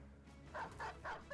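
A dog barking in the strategy game Battle Brothers: three quick, faint yips in a row over a quiet background.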